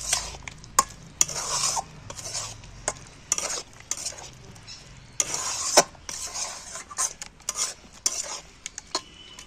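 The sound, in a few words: stirring egg paneer curry with coriander leaves in pan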